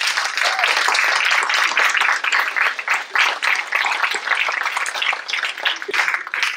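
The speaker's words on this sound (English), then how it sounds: "give a brief round of applause to everybody who's contributed to all of the output" Conference audience applauding in a round after a keynote, dense sustained clapping from a large crowd filling the room at steady loudness throughout.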